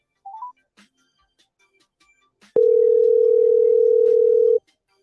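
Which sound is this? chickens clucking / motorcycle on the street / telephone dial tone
telephone dial tone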